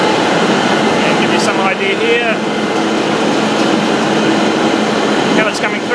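Fish feed plant machinery runs steadily as extruded tuna feed pellets pass into a coating drum and are sprayed with fish oil. A loud, continuous industrial hum fills the whole clip while a person talks over it.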